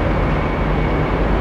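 A KRL commuter train at a station platform at Pasar Senen, filling the clip with a loud, continuous rumble and hiss, steady and close throughout.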